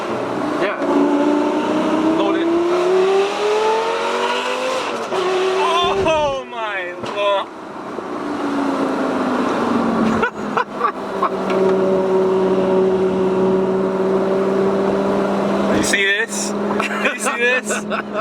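Straight-piped Lamborghini Gallardo Superleggera engine revving hard, rising through the gears and then downshifting with sharp blips and crackles, loud and close from inside the car, with excited voices talking over it.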